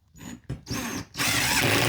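Impact driver sinking lag bolts into a garage ceiling joist for an overhead storage rack, heard as bursts of dense, loud mechanical rattling and whirring with short pauses between, growing continuous and louder toward the end.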